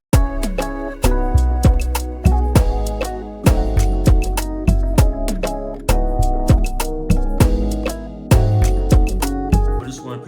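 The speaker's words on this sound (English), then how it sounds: "I use this bass within Expand called the low frequency bass." A deep, 808-like low frequency bass from FL Studio's Expand plugin plays root-note lines with bounce beneath a full Afrobeats drum pattern, loud and steady with no talking.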